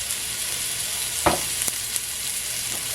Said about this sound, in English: And then I'm quickly going to add my sorrel. The pulp that we boiled.